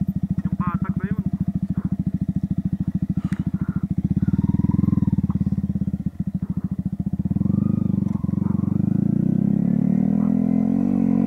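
A Yamaha XSR 155 motorcycle engine chugs loudly and steadily at close range while climbing a mountain trail at Tacadang-Kibungan, revving harder partway through as it labors along, with rattling and clatter over the engine note.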